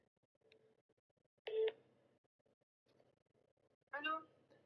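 A telephone keypad being dialed to place a call gives two short, clear bursts of tones separated by a pause, faint and close, against a very quiet background.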